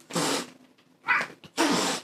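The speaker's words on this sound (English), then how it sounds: "so my cats just had a fight." Cats fighting indoors, with three loud, harsh bursts of yowling and hissing separated by short pauses, close to the listener and free of any talk.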